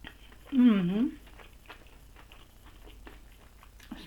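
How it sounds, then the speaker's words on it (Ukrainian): Faint crisp crunches of chewing a sugar-coated doughnut with cinnamon, with a loud, pleased hummed voice near the start, then soft steady crunching bites. "Цукор хрумтить."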